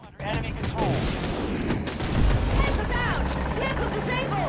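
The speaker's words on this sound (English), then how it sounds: "Tow missile time." A TOW missile launches from an attack helicopter in a combat video game, a loud burst of firing and explosions over steady rotor and battle noise that continues for several seconds.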